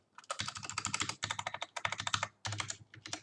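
Rapid, dense keystrokes on a Keychron K6 mechanical keyboard with stock stabilizers, clacking in quick bursts with a deeper spacebar thock, close and clear with brief pauses between runs.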